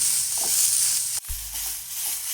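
Sprouted moth beans (matki) dry-roast in a pan with a soft, steady sizzle and faint stirring scrapes, broken by a single dull knock midway.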